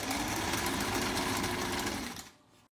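A sewing machine stitches the folded hem of a shalwar in a fast, steady mechanical whir at close range for about two seconds, then slows and stops.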